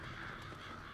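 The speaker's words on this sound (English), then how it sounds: "And those are crows. So they were trying to eat the body, I guess." Crows caw harshly over a scavenged body in the Resident Evil 5 video game, a steady layered cawing that sounds faint and distant against a dense background.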